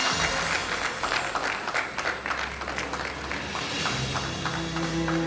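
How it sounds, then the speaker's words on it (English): Audience applause at a college graduation day ceremony in Bengaluru as a student comes forward to receive an award, with scattered, irregular clapping running steadily throughout at moderate loudness. "Can we give a big round of applause to Ms. Megha?"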